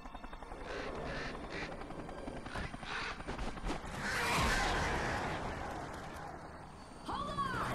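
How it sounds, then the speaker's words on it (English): Crows caw in the game Alan Wake Remastered, with harsh calls scattered over rumbling mechanical engine noise and a louder cluster of caws near the end. "Oh my god, these fucking crows."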